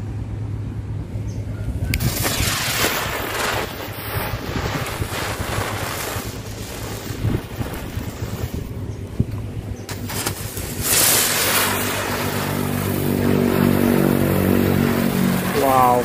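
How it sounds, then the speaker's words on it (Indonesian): Four petasan gangsing spinning-top firecrackers go off outdoors, a long rushing, roaring hiss with buzzing whirls that surges and fades over sixteen seconds, ending with a rising whistle. "Selanjutnya kita cobain petasan gangsing 4 buah"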